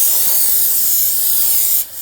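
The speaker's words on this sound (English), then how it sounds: "you want to spray the back side down with some brake parts cleaner" Brake parts cleaner sprays steadily onto the back side of a BMW X5 rotor during parking brake shoe work, a loud close hiss lasting about two seconds before cutting off abruptly.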